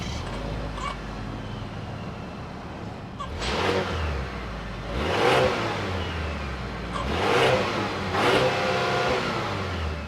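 A 2.5-liter turbocharged 4-cylinder engine in a 2025 GMC Acadia Denali AWD SUV revs up several times in separate bursts, each rising then falling back to a smooth idle, heard close and fairly loud.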